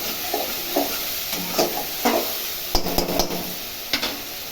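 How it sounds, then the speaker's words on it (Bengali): Ground spice paste being sautéed in a pan, with repeated spoon scrapes and clinks against the metal over a soft background sizzle, no one talking. "এবার একটু কষে নেব"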